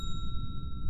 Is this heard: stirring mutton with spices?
no